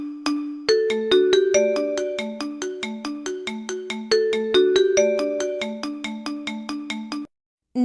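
A Huawei phone ringtone plays clearly on its own: a bright, bell-like melodic pattern of plucked tones repeating in a steady rhythm, ending with a short pause and a fresh note.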